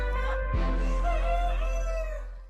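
A rooster crows in a backyard chicken coop at a country dacha, one long drawn-out crow rising and holding, fairly close and loud over a steady low hum.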